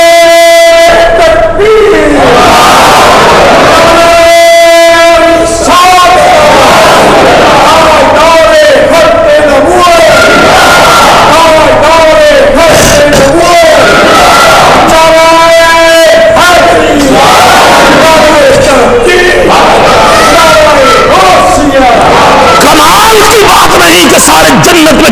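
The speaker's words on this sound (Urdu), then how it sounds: "محبت سے نعرے کا جواب دیجیے جناب" A religious gathering's crowd shouts back in unison to a slogan during a Ramzan welcome sermon, loud repeated chanting bursts that fill the whole stretch with voices.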